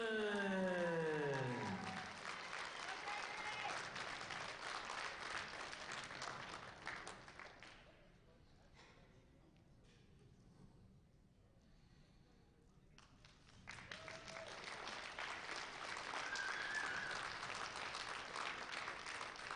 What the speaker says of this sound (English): A big round of applause for Gregory Johnson.